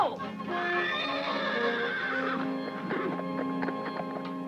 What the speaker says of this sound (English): Get that horse! Don't let him get away!